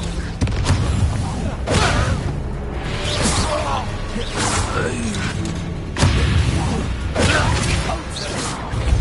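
Confringo blasting spells cast during Hogwarts Legacy combat, landing as a run of loud booming impacts and crashing whooshes every second or so over continuous battle noise, with voices in the mix.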